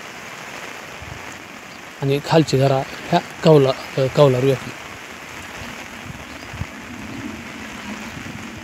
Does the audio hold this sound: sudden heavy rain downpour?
yes